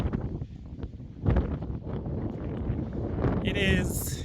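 Strong wind buffets the microphone in a steady broadband roar on the way up Sani Pass, with a brief louder gust and faint background sounds throughout.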